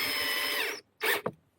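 A power drill drives a self-tapping screw into a plastic vehicle fender, a steady whirring buzz for nearly a second that cuts out, then a short second burst and a brief clack, close and alone.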